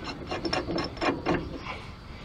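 A C-press being screwed down on a ball joint of a 2003 Ford F150 makes short, rhythmic metallic ratcheting and grinding turns, close and moderately loud, with no talking.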